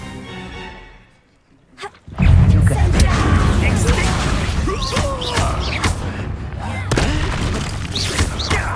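A Stupefy spell is cast in a video game. A rising whoosh builds into a sudden loud boom, followed by a sustained crackling, rumbling blast. Voices and effects are mixed in around it.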